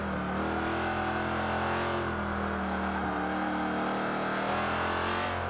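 Jaguar XKR-S in the Forza 5 video game at the Catalunya circuit, its engine droning loud and steady throughout with a continuous revving tone and no voices.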